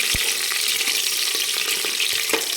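Green chillies and onion sautéing in a pan for khichdi give a steady close sizzle, broken by a few soft thuds and scrapes of a spoon stirring, with no talking.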